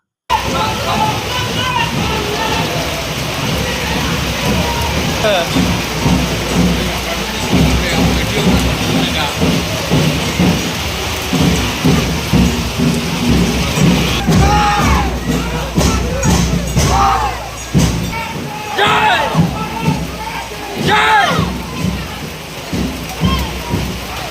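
Heavy rain pours with rolling thunder during a Tiranga rally in Golakganj, a loud steady downpour over a crowd with voices and chanting throughout.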